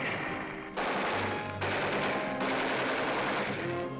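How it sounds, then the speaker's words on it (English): Gunfire from Japanese snipers in a 1945 Manila street battle comes as rapid bursts of rattling shots in three or four clusters over a constant noisy background, moderately loud. "Medical corpsmen carrying wounded scatter as Japanese snipers open fire."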